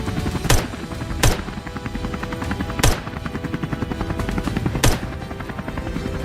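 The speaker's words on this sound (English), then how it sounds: "The helicopter roared like a beast," Helicopter in flight over a forest during a wild boar hunt, a loud continuous rotor roar with rhythmic chopping, broken by several sharp gunshot-like cracks spaced a second or two apart.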